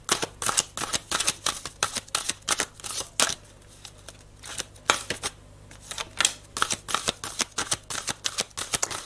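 Cards for a spiritual reading are shuffled close by, with quick rhythmic flicks and riffles in fast bursts, short pauses between rounds, and no talk over them.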